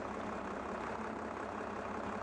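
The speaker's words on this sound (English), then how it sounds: "let's hop up in the tractor here" Steady low rumble of an idling tractor engine, close and constant with no talk over it.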